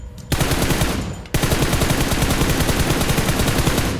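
Rapid automatic gunfire in the PUBG Mobile video game, a loud continuous burst that pauses briefly after the first second and then resumes as a sustained, evenly paced stream of shots.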